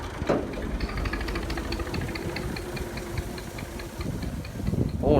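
Tractor engine idling at low throttle while hitched to a trailer, a close, steady knocking diesel rumble with rhythmic ticking, a brief rise in loudness at the very end.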